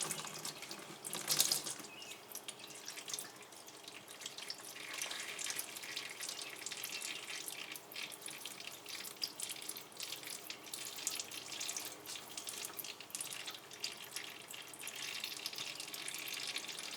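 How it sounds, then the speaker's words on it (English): Steady hissing, trickling stream of engine oil draining from a Can-Am X3 turbo into a pan, running continuously, with a brief clatter near the start; no talking. "If all the oil goes into the pan, it'll be a success."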